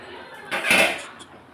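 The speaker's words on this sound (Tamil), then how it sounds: "இனி இப்போ இதை லேசாக கிண்டி விட்டுட்டு மூடி வச்சிடலாம்." Egg roast is stirred in a pan and covered with a lid, giving a short metallic scrape and clink of utensil against cookware, close and brief.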